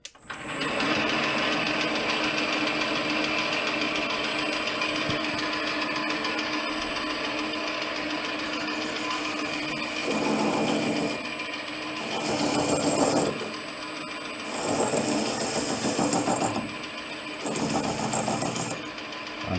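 A carbide cutter on a metal lathe cleans up a shoulder on a part held against a live center, with a steady whining hum from the lathe running throughout and bursts of cutting noise in the latter half.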